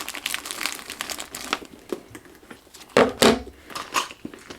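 A packet of tissues crinkles in brief crackly bursts as it is shifted out of a Hermès Birkin 25 handbag into a Birkin 30, with a louder rustle near the end.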